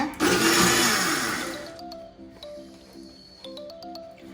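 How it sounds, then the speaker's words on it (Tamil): A mixer grinder whirs loudly for about a second and a half as it pulses Oreo cake batter with milk. The motor then falls away, and a faint ringing tone carries on alone. "கொஞ்சம் கொஞ்சமாக பால் சேர்த்துட்டு பல்ஸ் பண்ணி எடுங்க"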